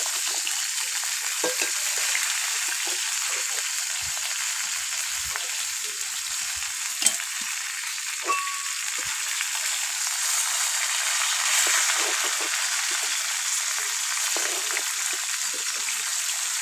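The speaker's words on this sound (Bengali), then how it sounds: "মাছ আমার ভাজা হয়ে গেছে, এবার আমি তুলে নেব।" Tilapia fish fries in a pan of hot oil, giving a steady, close sizzle with occasional pops and crackles that continue throughout.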